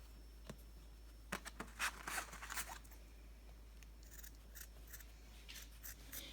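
Scissors snip through the end of a homemade hair tie in a quiet room, a series of sharp, close cuts with short pauses between them.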